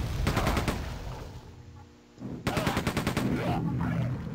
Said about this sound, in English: When he shoots grenades, they bounce back.